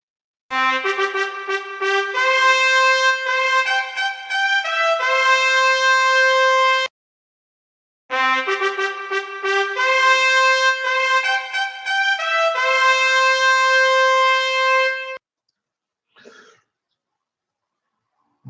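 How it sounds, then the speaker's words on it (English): A bright, brassy trumpet call plays two long melodic phrases of sustained and repeated notes, each lasting several seconds with a short pause between, followed by a faint brief sound and then silence. "That is the sound of the trumpet that you've just heard."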